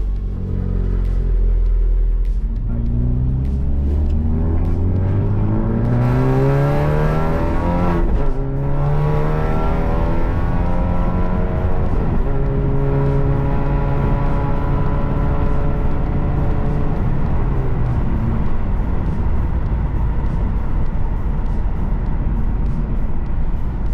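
Honda Civic Type R with a double-clutch gearbox, heard from inside the cabin on the move: a loud, steady engine drone that rises through the revs in repeated sweeps with shifts between them and no talking.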